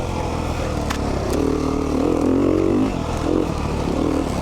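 A 2019 Beta 390 RR Race Edition dirt bike engine on mountain single track drones steadily at close range, swelling as it revs up in the middle and easing back, with a few clattering knocks over the top.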